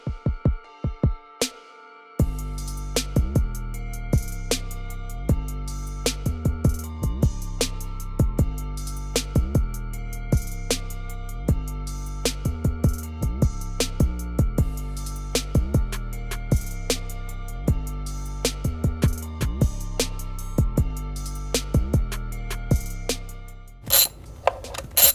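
Ratchet wrench with an E10 Torx socket loosening valve cover bolts on a BMW N54 engine, a close series of rhythmic clicking ratchet strokes repeating steadily, ending with a brief clatter.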